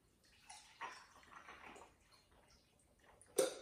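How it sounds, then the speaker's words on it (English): A Crown Royal Red Snapper cocktail poured from a shaker into a highball glass filled with ice, a soft close splashing pour with a brief sharp clink near the end. "we're gonna pour that into a highball glass or a glass filled"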